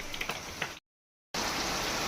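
Steady hiss of rain falling nearby, broken by a brief moment of complete silence before the downpour resumes just as loud.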